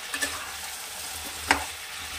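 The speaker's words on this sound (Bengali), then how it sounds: "এবারে একটু এভাবে নাড়াচাড়া করে কষিয়ে নেব।" Pointed gourd curry fries in a pan while being stirred, a soft steady sizzle punctuated by a few scraping stir strokes, one sharper scrape standing out midway.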